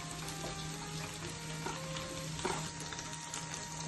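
Ginger garlic paste frying in a pan, a steady close sizzle with occasional stirring scrapes, heard alone without talk.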